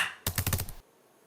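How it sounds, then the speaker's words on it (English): A typewriter sound effect gives a quick cluster of about five or six sharp mechanical key strikes, loud and close, lasting about half a second before cutting to near silence. "I'm going to drag down these typewriter sounds"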